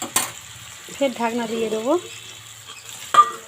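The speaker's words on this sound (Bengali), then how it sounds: "ধীরে ধীরে এটা ভাজলে ভালো হয় আর কি। এটা এখন সময় লাগবে ভাজতে।" Sliced snake gourd fries slowly in a pan with a low, steady sizzle, while a spoon or lid clatters at the start and end and a voice speaks briefly in the middle.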